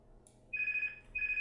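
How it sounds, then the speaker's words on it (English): A telephone rings in two short electronic trilling bursts with a brief pause between them, clear and fairly close over faint background hum. "That's the phone."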